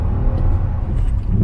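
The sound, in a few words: Nissan Almera car engine revving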